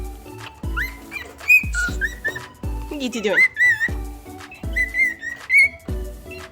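Pet birds in a backyard chirp and whistle in short bright phrases, fairly close and clear, mixed with a person talking and some low thumps.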